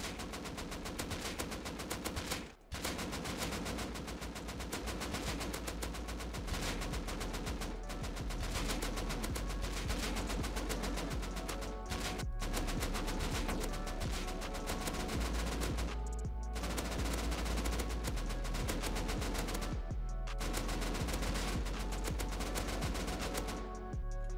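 Sustained, dense automatic fire from an AK assault rifle in the game Rust, loud and close, rattling almost unbroken in long sprays with only a couple of brief pauses between bursts.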